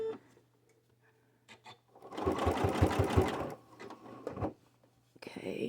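A sewing machine stitches a modified start on a jelly roll rug, a close rapid mechanical chatter lasting a couple of seconds between quiet handling clicks, with another short burst at the end.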